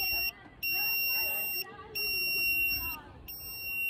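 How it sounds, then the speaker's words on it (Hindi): A homemade water tank level alarm sounds as soon as it is powered, giving repeated shrill electronic beeps in bursts with short gaps while someone talks over it. "तो जैसे ही हम अपने वाटर टैंक अलार्म को पावर देते हैं तो एक इस तरीके का इंडिकेशन"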